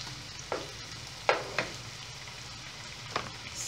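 Margarine melting in a pan for farofa hisses with a low, steady sizzle. A few sharp clicks of a utensil against the pan sound close up, with no talk.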